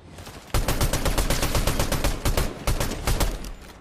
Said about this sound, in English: put quite a bit into him, but I had an SMG